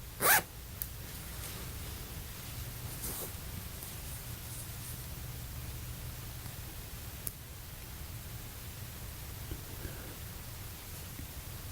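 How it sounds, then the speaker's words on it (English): Zipper on an Ann Taylor dress, a quick close zip at the very start followed by faint rustling of fabric over a steady low background hum, with no talking. "Then here is your zipper and a hook."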